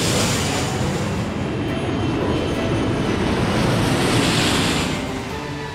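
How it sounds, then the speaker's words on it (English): A cartoon airplane comes in to land, its engine a loud, steady, rushing roar that holds evenly before easing off slightly at the end. "Camilla, you are cleared for landing for real this time."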